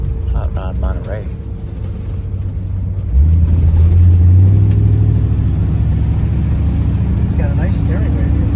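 A 1954 Mercury Monterey two-door hardtop hot rod engine idles, then at about three seconds revs up and pulls away in a loud, steady roar. Voices talk faintly near the start.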